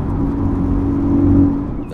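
An Acura Integra Type S fitted with a Milltek catback exhaust revs loudly up close, its engine note climbing steadily over about two seconds and then dropping off, alone without voices.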